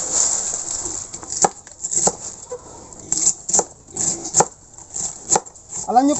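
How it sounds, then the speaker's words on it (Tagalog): A knife slicing through madre de agua leaves on a cutting board, a series of crisp, fairly close chops at an uneven rhythm, with someone talking softly in between. "Diretso tayo sa hiwa."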